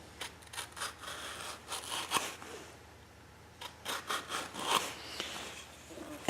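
A digital caliper jaw scribes a line into wood with a quiet, close, scratchy rasping in short repeated strokes, a brief pause in the middle, then more strokes.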